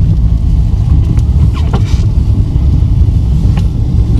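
Constant low rumble of a car driving on a snowy winter road to the Inzer Zubchatki, heard from inside the vehicle, loud and steady with faint squeaks and clicks.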